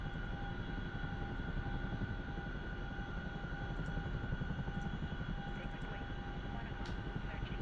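A CH-47 Chinook helicopter in DCS gives a continuous engine whine and rotor drone, steady and moderately loud with a faint rhythmic chop.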